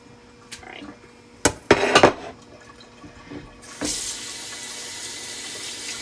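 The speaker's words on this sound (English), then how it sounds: "Because I want to wash my hands for the next steps." A kitchen sink tap runs steadily while hands are washed after turkey prep, starting with a few sharp clatters and splashes, then a constant close hiss of flowing water.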